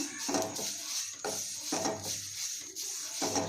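Drumstick leaves roast dry in a pan over low heat, a soft continuous rustle broken by rhythmic scraping strokes of a spatula every second or so, close and quiet.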